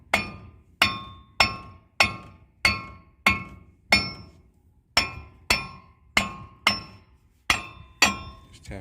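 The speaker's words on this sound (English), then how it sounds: "all we're going to do is just tap it" Hammer blows on a brake rotor on a 1999 Ford F350 Super Duty 6.8 with its 21mm bolts removed, about thirteen sharp metallic clinking taps at a steady pace, close and loud with no talk.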